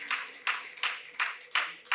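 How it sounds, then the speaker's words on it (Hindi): Rhythmic clapping from an audience at a Hindi poetry recital about Maharana Pratap, six crisp, evenly spaced claps in unison, moderately close with a short decay after each. "तब आपकी तालियां मांगता हूं"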